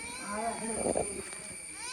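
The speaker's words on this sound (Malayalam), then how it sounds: "this is the cat from there house" A house cat meowing indoors, giving one drawn-out meow midway over a steady tonal hum, with a voice present.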